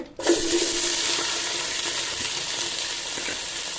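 Food sautés in hot coconut oil, starting with a sudden loud hiss as it hits the pan, then settling into a steady, close, gradually easing sizzle.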